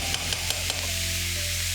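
Beef browning in a curry pot gives a steady, close sizzle that holds level throughout, with a few soft stirring clicks early on and no talking.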